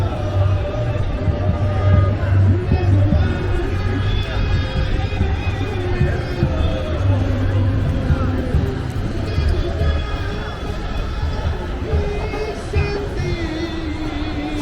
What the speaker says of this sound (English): let's check out Planet Hollywood on the Las Vegas Strip.